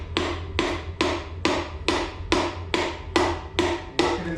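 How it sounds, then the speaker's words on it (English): Wooden hammer handle tapping a piston down into a cylinder of a 351 Cleveland engine block, nine evenly spaced, crisp knocks at close range with a short ring after each. "And then you take wooden handle with a hammer, and you guide the rod with your other hand"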